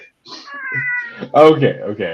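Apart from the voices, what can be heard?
cat meowing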